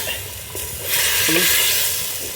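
Spicy mutton curry is stirred in a clay pot, a continuous close sizzle that swells midway, with a brief scrape of the spoon against the pot.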